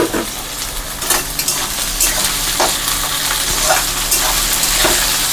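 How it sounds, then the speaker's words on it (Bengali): Beans, carrots, curry leaves and green chillies frying together in a pan for poha pulao, a steady loud sizzle broken by scraping spatula stirs and light clinks of utensil against the pan. "কিছুক্ষণ ফ্রাই হতে দেব।"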